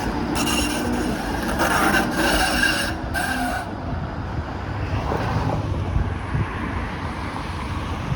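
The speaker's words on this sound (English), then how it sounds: "So here comes the streetcar, and it's a Bombardier Flexity Outlook going towards Humber." A Bombardier Flexity Outlook streetcar heading toward Humber on Lakeshore Boulevard West in Toronto rolls past nearby with a loud rumble, bursts of hissing wheel and rail noise, and steady street ambience once it moves away.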